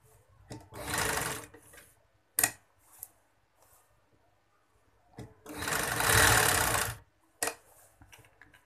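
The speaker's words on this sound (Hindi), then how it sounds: "हाफ साइड पे सिलाई लगा ली है।" Two close runs of a sewing machine stitching a kameez side slit, each about a second or two long, separated by quiet gaps with a few sharp clicks of fabric handling, no voices.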